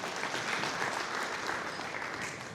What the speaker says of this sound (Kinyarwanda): Amashyi menshi dushimira Imana.